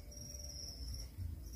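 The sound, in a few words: crickets chirping on a cricket farm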